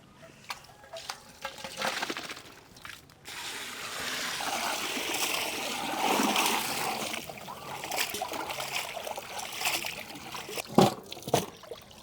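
Tap water runs and trickles steadily while raw chicken is rinsed and handled, with intermittent splashes and a couple of sharper knocks near the end.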